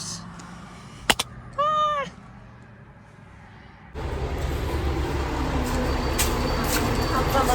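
A garbage truck passes a housing complex in Revelstoke, Canada, arriving as a loud, steady engine rumble and roar that swells and stays, after a quieter stretch with a few brief clicks and a cat-like meow.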